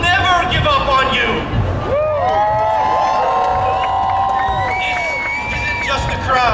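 A huge outdoor rally crowd in solidarity with Iran cheers and shouts continuously, loud and dense, with whistles and horn-like tones rising and sliding above the roar and voices mixed through it.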